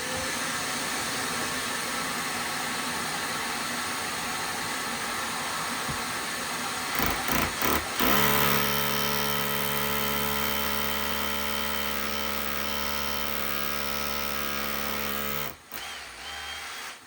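A power drill bores holes in a wall for monitor mounting plugs, with a loud, steady whine that shifts to a lower, deeper drone partway through and then stops briefly near the end.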